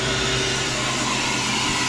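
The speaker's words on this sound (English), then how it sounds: "I'm going to open my drain valve so that I can get the door open" Steady, loud rush of air with a low hum as the drain valve on a home freeze dryer is opened after a 26-hour cycle, continuous and close for the whole stretch with no talk.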